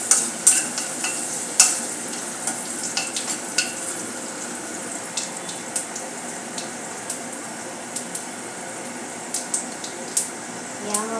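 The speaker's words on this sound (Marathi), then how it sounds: "5-6 लसणाच्या पाकळ्या मी ठेचून घेतलेल्या आहे. चांगले परतून घेऊया." Crushed garlic cloves sautéing in a pan for kadi pakoda tempering, a faint continuous sizzle broken by sharp spoon clicks and scrapes against the pan, close but quiet.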